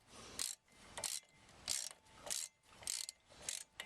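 Ratchet with a star bit working a brake caliper bolt loose during a brake job, about seven short rasping clicking bursts in an even rhythm, quiet and close, with no talking.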